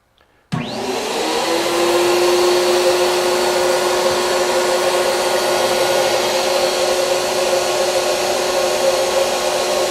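An HVLP paint spray turbine, Earlex or Fuji, starts abruptly after a brief quiet moment and then runs loud and close with a continuous steady whine and rushing air, without talk.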